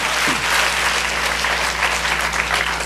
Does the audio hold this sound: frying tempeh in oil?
no